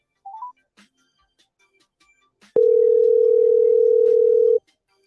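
A short electronic chirp, then after a pause a loud, steady telephone dial tone holds for about two seconds and cuts off.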